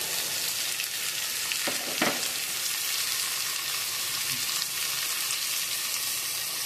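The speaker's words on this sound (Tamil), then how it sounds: "எல்லாத்தையும் போட்டு வதக்கணும்." Steady, crackling sizzle of finely chopped shallots sautéing in hot oil for tapioca dosa, with a brief clatter of stirring partway through; no voices.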